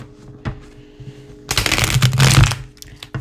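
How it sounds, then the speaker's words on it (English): A Rider-Waite tarot deck is shuffled by hand. Quiet handling comes first, then a dense papery riffle of about a second starts up close and fades out. "Let's give it one more shuffle."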